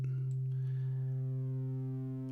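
A steady sine wave from a VCO fed into a Venom wave folder synth module, a continuous electronic tone rich in folded harmonics that sustains evenly throughout, alone without talk.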